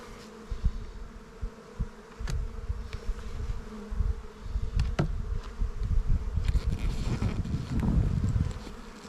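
Honeybees buzz steadily around a nuc hive outdoors in a dense, close, continuous drone, with occasional louder passes as single bees fly near.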